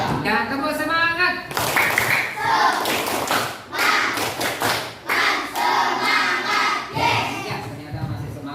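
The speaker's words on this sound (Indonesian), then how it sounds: "Ya, tepuk semangat." A class of schoolchildren performs a patterned spirit clap in a classroom, rhythmic bursts of hand claps and thumps in sequence, with a teacher and children speaking around them.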